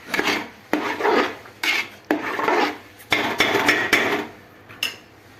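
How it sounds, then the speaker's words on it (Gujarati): Pav bhaji being mashed with a hand masher in a cooking pot, repeated rasping, scraping strokes against the metal in an uneven rhythm, close and fairly loud with brief pauses between pushes. "આ મેસર છે, આનાથી આ રીતે મેસરથી આને મિક્સ કરી નાખવાની છે."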